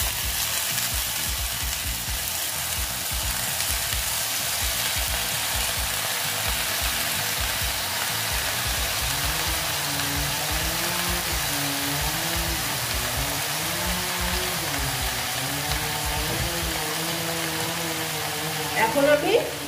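Greens and pumpkin stalks frying in a pan for a Bengali chorchori, a steady loud sizzle with scraping and stirring throughout, with a voice talking over the cooking.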